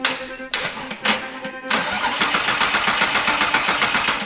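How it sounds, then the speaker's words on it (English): A wrecked Lamborghini being rebuilt is powered straight through its starter motor, giving a few short whirring cranks of the starter and then a continuous loud rhythmic churn as the engine turns over up close. "We decided we was just going to send power directly to the starter motor to see if the engine would crank"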